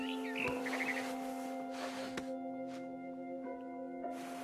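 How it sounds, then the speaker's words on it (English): A few faint barn swallow chirps and tweets over a steady humming tone and background game ambience. "Then I heard chirping outside my window. It was a barn swallow going back to her nest."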